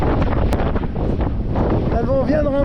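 Strong wind roars across the microphone aboard a racing sailboat at sea off the coast, a dense, constant buffeting with a voice speaking under it.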